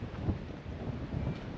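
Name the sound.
wind blowing on microphone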